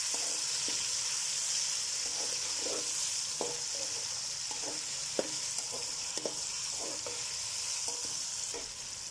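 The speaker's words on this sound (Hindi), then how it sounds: "टमाटर को भी अच्छे तरीके से थोड़ा सा भून लेते हैं।" Tomatoes fry in a pan for chicken pulao, giving a continuous bright sizzle with scattered soft stirring clicks and scrapes, close and moderately quiet, without speech.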